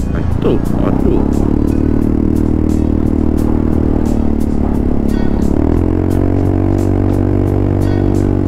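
An Italjet Dragster 200 scooter with stiff rear suspension crosses railway tracks, its steady engine drone overlaid by a rapid run of sharp, evenly spaced rattles and clatters as the wheels jolt over the rails.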